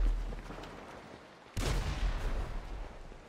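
Gunfire in a PS4 action game, a dense rumbling barrage that jumps suddenly louder partway through and keeps rolling as sustained heavy fire.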